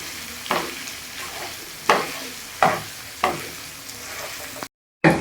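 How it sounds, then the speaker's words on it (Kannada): Mutton sizzles in a hot pan while a spoon scrapes through it, giving four or five distinct stirring strokes over a steady close frying hiss. "ಇದನ್ನ ಚೆನ್ನಾಗಿ ಫ್ರೈ ಮಾಡಬೇಕಾಗ್ತದೆ"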